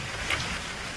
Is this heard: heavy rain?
yes